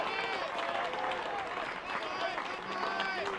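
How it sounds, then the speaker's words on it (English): A baseball crowd cheers on the Lancers of Mount Marty University near the end of a game, with a dense wash of shouts, whistles and claps from a distance under a commentator's voice. "You can hear the crowd getting going here, cheering on their Lancers, trying to close out a victory."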